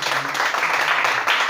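A church congregation applauds to acclaim the Lord Jesus during a worship service, a brief steady wash of many hands clapping together, fairly loud and close, with a voice speaking over it.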